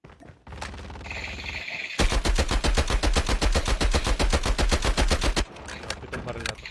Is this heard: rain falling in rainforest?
no